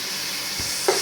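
Onions dropped into a hot pan of lightly browned white meat, with a steady sizzle throughout and a brief sharper burst of frying as they hit the oil.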